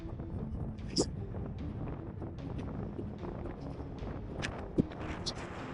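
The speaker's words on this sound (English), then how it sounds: "Really windy." Strong wind buffets the microphone in a steady, rumbling roar atop a cinder cone at Craters of the Moon, with a couple of brief sharp knocks standing out.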